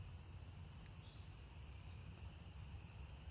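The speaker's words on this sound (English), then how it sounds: "the chorus frogs are calling from a different place in the forest right now." Faint, distant chorus frogs in an Alabama forest give short repeated chirping calls over a low, constant background rumble.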